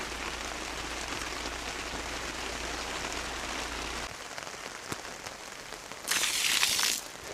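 Steady rain patters on a tent canopy close by at a lochside camp, continuous and dense, with a brief louder gust of spray near the end.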